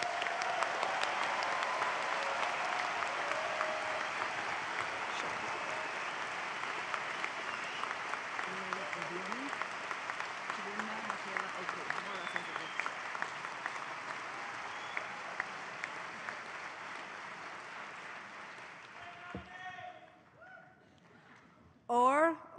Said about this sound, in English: Please join me in applauding those graduates who have crossed the stage thus far.